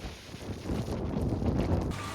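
Wind blows steadily through bending trees, a broad rushing roar with gusty buffeting on the microphone, loud and close, with no talk.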